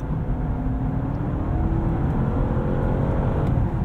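A 2023 Honda CR-V Sport Touring's engine hums steadily while cruising, its CVT making the pitch climb and then drop in stepped increments, imitating gear changes.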